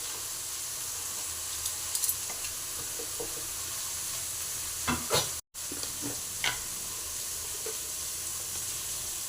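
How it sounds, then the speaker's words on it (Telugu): A coconut, green chilli and roasted gram mixture with chilli powder fries in a pan, with a soft sizzle and intermittent scraping stir strokes close up. "మధ్య మధ్యలో ఇలా కలుపుకుంటా ఉండాలా"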